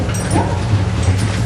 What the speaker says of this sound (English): What a cute dog.